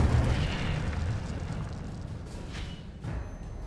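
Incendio fire spell cast in Hogwarts Legacy, a heavy rumbling whoosh of flames with a deep booming burst at the start, fading over several seconds into crackling fiery roar with small pops, loud and close.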